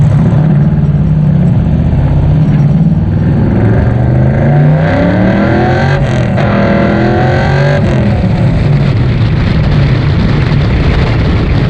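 A 1968 Chevy II Nova Super Sport V8 revving at higher RPM, a loud, close, sustained engine roar with rising and falling pitch sweeps as the throttle is worked.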